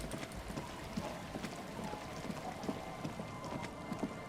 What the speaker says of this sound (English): It's raining now instead of snowing